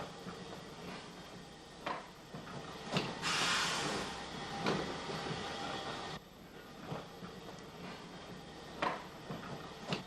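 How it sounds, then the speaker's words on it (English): Goods wagons headed by a large bogie van are loose shunted on a 1950s Irish railway, rolling past with intermittent clanks and knocks over a steady rumble, and a louder burst of noise midway. "The large bogie van number 89, heading the wagons being loose shunted past the camera"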